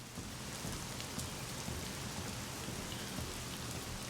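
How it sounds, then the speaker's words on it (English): Heavy rain in The Medium, a dense, continuous downpour hissing across the whole clip at steady loudness, with no talking. "I love the heavily rainy days"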